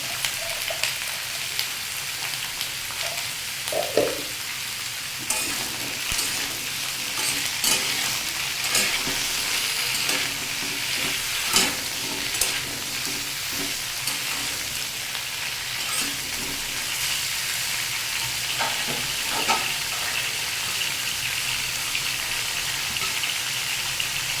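Mixed vegetables frying with salt in a pan for a vegetarian dish, a steady broadband sizzle with occasional stirring scrapes and clicks running throughout, close and continuous with no talk.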